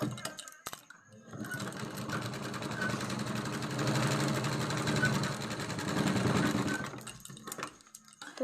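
A sewing machine runs close and steady for several seconds, stitching along a folded edge of fabric for a school escort sash, with brief handling sounds before and after the run.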